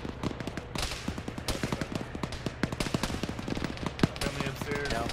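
Gunfire in the military video game Arma during a ShackTac squad session: rapid bursts and single shots crack steadily throughout at mid distance, with several loud close reports and faint radio-style voices talking underneath.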